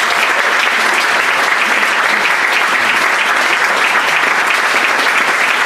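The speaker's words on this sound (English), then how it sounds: "Now let's give them a big round of applause." Steady round of audience applause at a Rotary meeting after a congressional candidate forum, dense and even clapping filling the whole stretch without speech.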